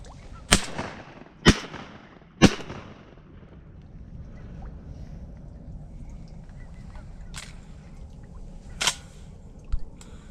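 Shotgun blasts ring out on a duck hunt: three sharp reports in quick succession, then a lull with faint background noise, followed by two more shots near the end, loud and close.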